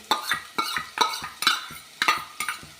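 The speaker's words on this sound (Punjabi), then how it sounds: "ਹੁਣ ਆਪਾਂ ਐਡ ਕਰ ਦਾਂਗੇ ਲਸਣ ਤੇ ਅਦਰਕ" Finely chopped garlic and ginger go into a cooking mix of vegetables and lentils, with a rhythmic series of close stirring scrapes and clinks of a utensil against the pot, about six strokes in a row.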